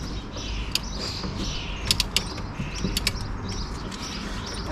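A torque wrench tightens the brake carrier bolts on a BMW E90 to 110 newton meters, giving a continuous close creaking, ratcheting sound marked by several sharp clicks near the end, with no voices.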